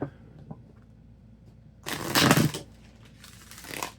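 Tarot cards are shuffled close by in two quick riffling bursts, with a quiet pause before them.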